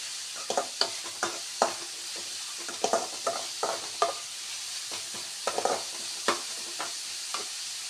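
Chopped onions fry in hot oil in a pan for homemade paneer masala, with a steady sizzle broken by repeated sharp scrapes and clinks of a spatula stirring.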